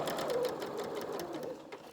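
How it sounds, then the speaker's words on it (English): A home sewing machine stitches slowly through a bulky centre seam on shorts or dungarees, its motor whirring in short, uneven bursts at close range, faint and steady. "Just help it, just go slowly and help it, your machine cope over the bulk of the centre seam there."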